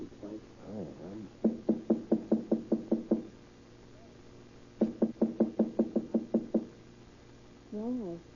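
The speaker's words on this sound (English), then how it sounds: "Wait, I'll knock first." A door is knocked on in a vintage noir crime radio drama, with two long runs of rapid, evenly spaced raps separated by a pause and followed by a brief bit of muffled talk.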